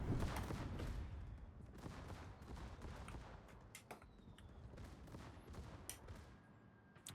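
Ship guns fire in a World of Warships naval battle, a dense run of overlapping booming blasts and crackling shots at moderate distance, with louder salvos early and scattered sharper reports continuing throughout.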